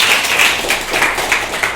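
A classroom of students claps together, producing a short burst of dense, close applause.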